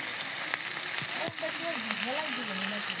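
Chopped onion hits a hot pan and fries with a bright, dense hiss that stays steady throughout, while someone speaks over it.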